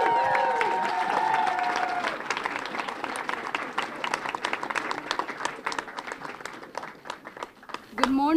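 A middle school cheering section applauds, claps and cheers in a hall, the clapping swelling and then fading over several seconds while a voice speaks at the start.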